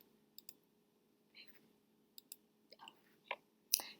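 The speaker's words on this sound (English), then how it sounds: "I'm clicking a mouse, trying to get to the next slide." A computer mouse clicking: sparse, faint, sharp clicks, some coming in quick pairs, with soft rustling between them and one louder click near the end.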